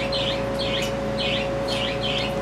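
Young Solomon Island Eclectus parrot chicks calling, five short raspy chirps in an even rhythm, fairly close, over a steady background hum with a faint tonal whine.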